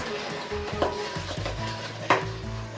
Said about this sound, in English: Now, Anatoly, will you give it a nice mix for us?